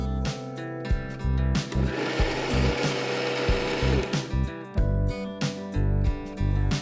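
Uttappa batter churns in an electric wet grinder with a loud, steady mechanical whir. Sharp knocks and rattles repeat throughout, and no one speaks.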